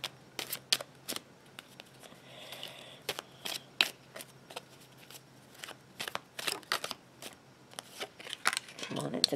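Tarot cards being shuffled by hand, crisp irregular riffles and snaps repeating throughout, loud and close, with a voice speaking intermittently between them.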